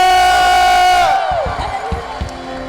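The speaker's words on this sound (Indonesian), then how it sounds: "berikan sorak-sorai yang termegah bagi Tuhan Yesus" Church congregation at a night revival gathering in Kapuas Hulu cheering and shouting praise, a loud crowd roar over sustained music that fades into scattered shouts and claps.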